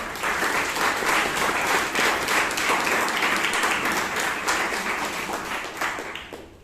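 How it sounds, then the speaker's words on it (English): A Toastmasters meeting audience in Bangalore claps in a sustained round of applause, many hands beating densely and evenly at fairly close range, holding strong for several seconds before thinning and fading out at the end. "let's give them a good round of applause"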